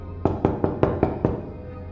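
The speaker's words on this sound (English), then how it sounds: "when they knocked." Six steady, evenly spaced knocks on a door, close and solid, then silence.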